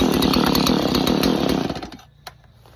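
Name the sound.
Stihl MS170 chainsaw being pull-started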